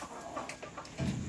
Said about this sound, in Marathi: बघ किती कोंबडे आहे